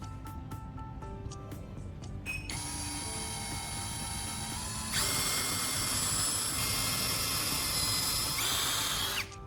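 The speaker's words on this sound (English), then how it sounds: "Then, we drill right through those points." A power drill bores through a wooden block with a whirring, high-pitched grind that builds and shifts as the bit cuts, loud and close, with no voices.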